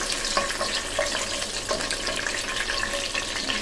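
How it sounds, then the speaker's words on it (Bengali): Whole garam masala spices, a bay leaf, a cinnamon piece and green cardamoms fry in hot oil with a gentle, steady sizzle and light crackle, close and continuous with no talk. "একটু 1 মিনিট ভেজে নেব।"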